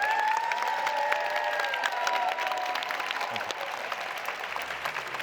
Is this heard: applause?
yes